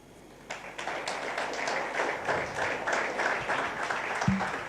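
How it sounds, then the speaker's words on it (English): Audience applause at the Youth Africa Connekt Summit, a steady wash of clapping from a sizable crowd that starts after a half-second and holds fairly loud throughout, with a brief low thump near the end. "Another round of applause for Waziri"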